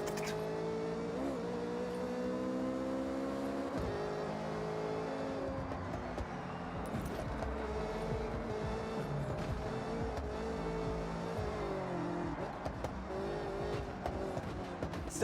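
A Ford Mustang driving hard with tires squealing, the engine revving and shifting under sustained tire screech for the full length, steady and fairly close, with no voices.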